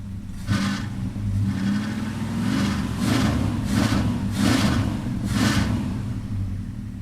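A truck engine runs loudly nearby and is revved in a series of swells, each rise and fall of engine note repeating steadily over a continuous rumble.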